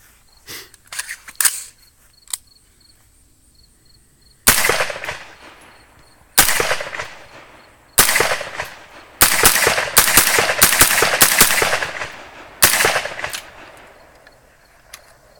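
A PSA AR-9 fitted with an SB Tactical SBA3 brace fires loud, close, sharp shots, a few spaced single rounds followed by a quicker string, each with a short ringing tail.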